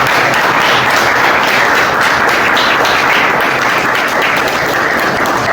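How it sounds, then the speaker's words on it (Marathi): Loud, continuous applause from a crowd at an Independence Day program, dense clapping that stays close and steady for the whole stretch with no voices over it. "त्यांच्यासाठी एका टाळ्या वाजवा"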